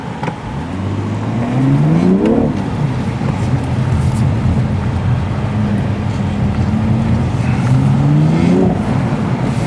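BMW M cars launching from a race start on a track at a performance center, engines revving hard through rising gear sweeps, an upshift, then another climbing run, loud and close.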